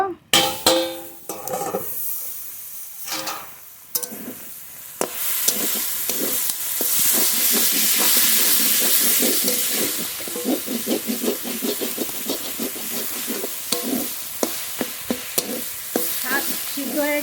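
Red amaranth greens stir-fried in a pan give a steady loud sizzle and hiss, broken by repeated scraping and clattering strokes of the spatula. The start is quieter with a few sharp knocks before the frying noise swells and holds.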